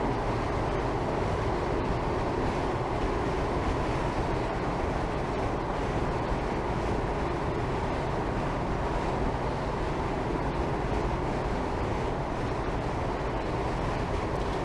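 Train in Train Simulator 2021 coasting with power shut off, a steady broadband rumble of wheels and wind that stays even and unbroken throughout, with no engine rhythm.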